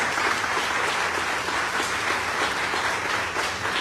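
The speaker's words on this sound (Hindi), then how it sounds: "तालियां बजती रहनी चाहिए," Audience applause at a gathering in India about debt relief, a steady round of clapping from a crowd that carries on evenly for a few seconds with no voices over it.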